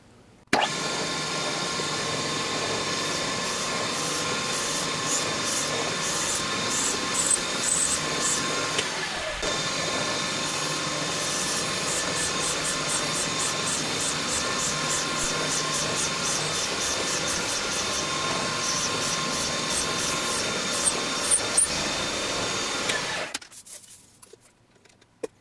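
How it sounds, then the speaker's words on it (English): A CNC mill boring down into a camera case front with a 3/4 inch end mill: a steady, loud machining whine with a faint rhythmic chatter, running for most of the stretch before it cuts off near the end. "I'll start by boring down with a 3/4 inch end mill."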